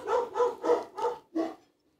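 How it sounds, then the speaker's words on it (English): Dogs bark five times in a quick, evenly spaced series at moderate distance, the last bark slightly apart from the others, then fall silent. "They're barking at something."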